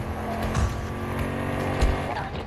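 A truck in Battlefield 2042 drives close behind, its engine a steady rumbling drone with a few low thumps and tire noise, under faint game ambience.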